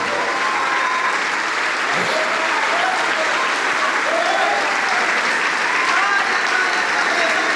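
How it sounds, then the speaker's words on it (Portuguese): A church congregation applauds during a Portuguese-language worship service, with sustained, even clapping from a large crowd and faint tones and voices beneath it. "Vamos aplaudir mais por cada vida que está chegando"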